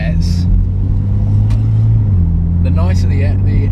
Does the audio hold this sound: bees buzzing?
no